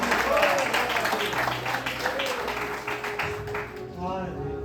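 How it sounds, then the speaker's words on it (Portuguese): A church congregation claps in praise to Jesus, a dense, continuous patter of applause that carries on beneath a preacher's voice, thinning out toward the end. "Pode glorificar a Deus, irmãos, com palmas para o Senhor Jesus."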